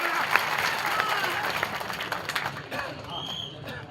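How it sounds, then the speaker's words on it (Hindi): A crowd at a political gathering claps for former chief minister Shankar Singh Vaghela, a scattered, uneven burst of applause mixed with crowd noise and voices. "उनके लिए तालियां बजाइए।"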